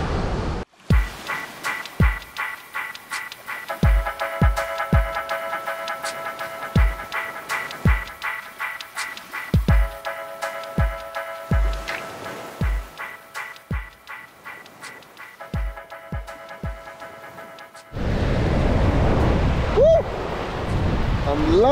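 Sea water and waves at a beach in Italy wash steadily, with intermittent knocks and splashes, then swell into a louder, close, rushing surge near the end.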